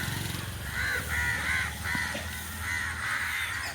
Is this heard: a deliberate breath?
no